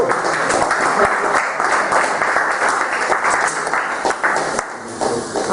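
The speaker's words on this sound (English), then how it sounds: "let's have a round of applause" Audience applause at a poetry book launch, a steady crowd clapping that carries on for several seconds before fading slightly near the end.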